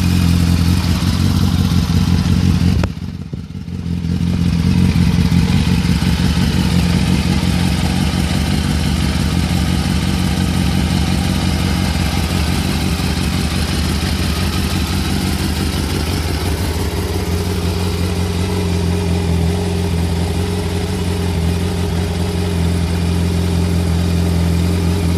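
A 2005 Yamaha R1 motorcycle sits idling close by, a loud, continuous, even engine drone with a steady low hum and light clatter, briefly dipping early on, with no talking.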